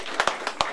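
Sparse hand claps from an audience at an awards ceremony, a few distinct close claps over a short moment.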